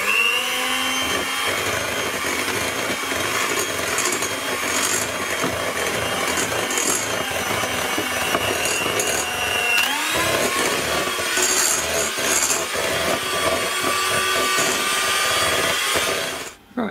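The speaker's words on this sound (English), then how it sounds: "I'm just going to use a hand mixer because I'll get a better consistency" An electric hand mixer whirs steadily through eggnog cookie frosting, a loud continuous motor whine with shifting pitch as the beaters move through the bowl, close up and without speech, cutting off at the end.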